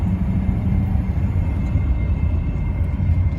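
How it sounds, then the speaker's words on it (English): A 1986 Mercedes-Benz 560SL driving, a steady low engine and road rumble heard from inside the cabin, constant in level with no talk. "listen to the car instead of the radio."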